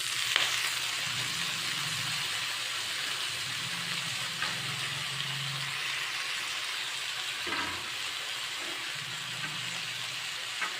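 Fenugreek leaves (methi) with turmeric and salt fry in a pan for a potato stir-fry, giving a steady, moderately loud sizzle throughout with occasional soft stirring scrapes and no talk.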